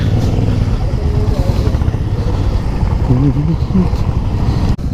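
Steady rumble of 21 motorcycles running together on a group ride, with voices talking over the noise.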